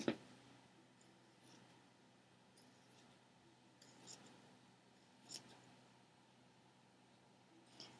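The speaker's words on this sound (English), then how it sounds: "I'm going to cut straight up my pin line up to my shoulders." Scissors snip fabric scarf along a pinned line, a few faint, sparse cutting sounds spaced several seconds apart against a quiet background.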